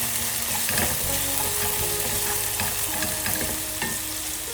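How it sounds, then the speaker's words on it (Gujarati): Chopped onions sizzle loudly in hot oil with asafoetida and curry leaves for urad dal, frying toward golden brown, with a continuous dense crackle and occasional scrapes of stirring. "હવે એને ગોલ્ડન બ્રાઉન થતા સુધી સાતળીશું"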